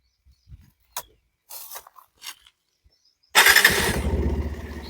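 A Bajaj Pulsar 150 STD motorcycle with 50,000 km on it is started after a few quiet clicks and taps, its engine catching abruptly and settling into a loud, steady idle close by.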